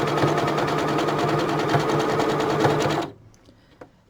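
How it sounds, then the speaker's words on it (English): A sewing machine stitches fabric scraps together with a fast, steady, close-up mechanical whir for about three seconds, then stops abruptly, leaving a few faint clicks. "I don't even backstitch. I just sew them together."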